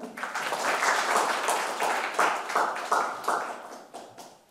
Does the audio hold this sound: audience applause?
yes